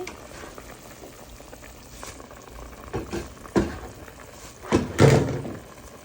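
Leafy greens drop into a hot pan of fish and dried fish with bursts of sizzling and a few clattering knocks, close and fairly loud over a steady cooking hiss.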